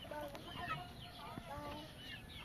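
Several chickens cluck softly nearby in scattered calls, at low volume over a quiet background.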